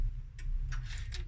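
A repaired pendulum clock runs in a workshop, giving several faint, evenly spaced ticks over a steady low hum, with no voices.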